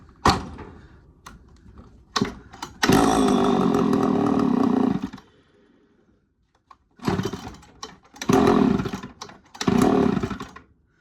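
An early Poulan 245A chainsaw engine sputters to life in short bursts, runs at a loud buzzing rev for a couple of seconds, dies, then fires again in several close, revving bursts separated by brief pauses.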